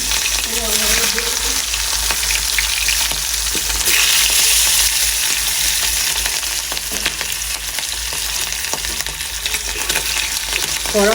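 Hilsa fish frying in hot oil, a loud, dense, unbroken sizzle and crackle close by, with occasional soft knocks in the pan and no speech.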